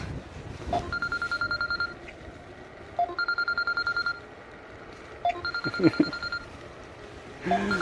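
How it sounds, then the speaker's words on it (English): Rapid electronic bell ringing in bursts, a trilling, telephone-like ring repeated three times with short pauses between, followed by some clattering. "The bell's ringing again."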